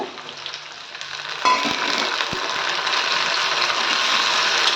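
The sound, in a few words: tomato being sautéed in a pan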